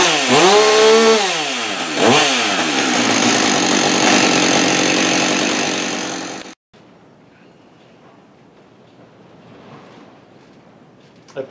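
A rebuilt Husqvarna 562xp chainsaw runs loud and close, its engine note sweeping up and down through a few revs, then cuts out abruptly to near silence with faint background noise.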